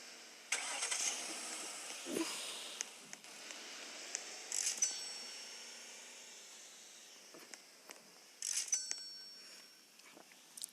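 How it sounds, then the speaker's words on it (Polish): A car engine starts and runs in a Roblox house-building tycoon game, with faint revving and idling mid-range hum broken by brief sharp bursts, fairly quiet and without talk. "Gdzie mi autem do domu wjeżdżasz?"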